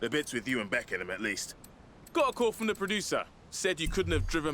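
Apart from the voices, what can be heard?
None of the usual background noises is heard.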